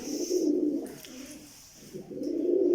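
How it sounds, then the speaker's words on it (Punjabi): A pigeon held in the hand coos close by in two soft, throaty phrases separated by a short pause, no talking. "ਇਹ ਜਿਹੜਾ ਹੁਣ ਤੁਹਾਡੇ ਹੱਥ 'ਚ ਹੈ ਇਹ ਅਨਸਰ ਵਾਗੇ ਵਾਲੇ ਕਬੂਤਰਾਂ 'ਚ ਨੇ।"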